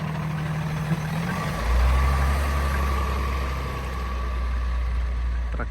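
A heavy truck rolls along a snow-covered road during a Canadian snowstorm, its low engine drone swelling as it draws nearer and then holding steady, with faint background noise throughout.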